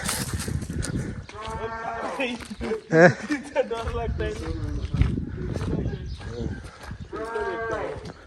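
Goats kept on a desert farm bleat repeatedly in drawn-out, wavering calls, clear and fairly close, with someone talking over them throughout.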